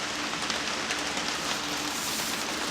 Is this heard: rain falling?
yes